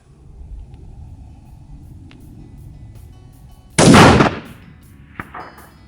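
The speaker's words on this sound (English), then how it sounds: "After double checking the zero on Dad's rifle" A single loud rifle shot cracks out during a zero check before a Nevada desert bighorn sheep hunt, a sharp blast that rolls away into a fading echo over quiet outdoor background.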